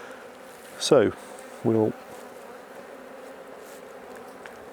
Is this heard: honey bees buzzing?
yes